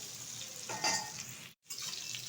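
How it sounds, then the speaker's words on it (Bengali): Pointed gourd (potol) being stirred in a pan of oil, a soft sizzle with a brief scrape of the spatula, followed by a short gap and more sizzling. "এখন পটলটা একটু নেড়ে চেড়ে নেবো, খুব বেশি ভাজবো না পটলটা"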